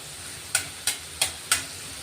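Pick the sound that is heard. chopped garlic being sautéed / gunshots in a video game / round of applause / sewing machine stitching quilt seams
chopped garlic being sautéed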